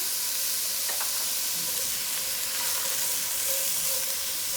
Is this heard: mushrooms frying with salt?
yes